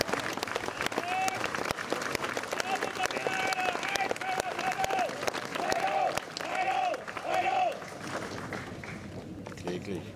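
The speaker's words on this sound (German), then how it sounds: "Applaus für Bettina und Peter Haider aus Leipzig zur Silberhochzeit" Audience applause for a couple celebrating their silver wedding anniversary at a public event, steady dense clapping across the whole stretch with a moderate crowd murmur and brief overlapping speech, fading slightly near the end.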